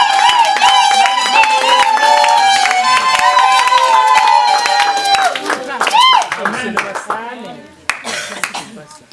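Church congregation clapping and acclaiming during a Sunday service, rhythmic claps and voices under loud singing and shouted praise, with the sound breaking up into scattered claps and cries toward the end.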